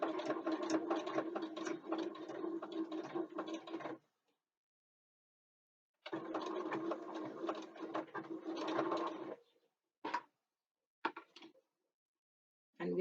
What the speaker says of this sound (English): I just chain piece them and just carry on sewing until all 4 of them are done